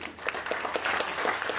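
A demo day crowd applauds the panelists after a discussion, a full wash of many clapping hands that swells slightly and stays strong throughout the short burst.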